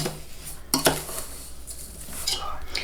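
A spoon stirs rose petal jam in a metal pot, with a couple of sharp clinks against the side followed by softer scraping and swirling close by.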